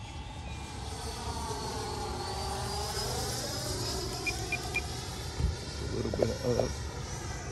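A Freewing Avanti S V2 80mm EDF sport jet climbs out at about 60% throttle, a steady ducted-fan whine and rush fading with distance, with a brief spoken remark and field noise near the end.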